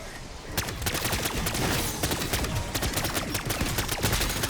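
Rapid bursts of MP40 submachine gun fire from the Black Ops 6 video game rattle loud and close, nearly continuous automatic shots over a few seconds with no talking.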